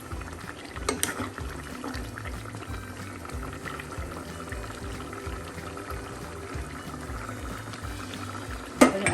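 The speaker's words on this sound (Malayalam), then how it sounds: "ഈ സമയം നമുക്ക് ഇളക്കിയ ശേഷം ഉപ്പ് നോക്കാം." Chicken curry simmering and thickening in a pot, a steady bubbling and sizzling texture throughout with occasional scraping from stirring and a sharper clank near the end.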